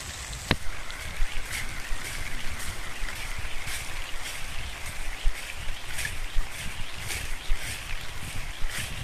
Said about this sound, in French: j'écoute la pluie.